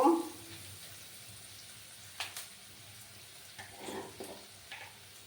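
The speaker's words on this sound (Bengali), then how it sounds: "দিয়ে ভালো করে একটু নাড়াচাড়া করে নেব" Mashed bottle gourd peel with green chillies is stirred in a pan, giving a faint background sizzle with a few soft scraping and rustling strokes near the end.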